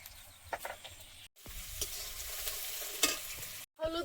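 Crushed garlic sizzles in hot oil in a pan over a coal fire for village chicken curry, a steady bright hiss with scraping stirs and two brief pauses, close and alone.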